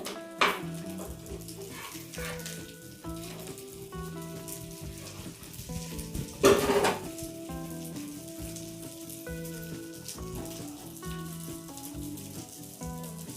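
A flipped parotta frying in oil on a hot pan gives a steady, close crackling sizzle that runs throughout, with a brief louder burst near the middle and tonal background music underneath.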